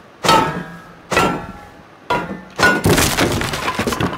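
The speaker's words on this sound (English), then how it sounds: "Start breaking the shelving unit" Wooden shelving unit smashed apart in the survival game Rust: a few heavy cracking, splintering blows spaced about a second apart, then a denser burst of breaking debris, loud and close.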